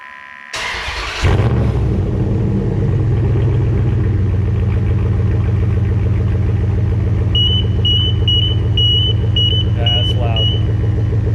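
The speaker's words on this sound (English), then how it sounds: "I'm going to start the truck" A truck engine cranks and catches, then settles into a loud, steady idle that runs on without a break, close by, with a faint repeating beep chirping faintly in the later part.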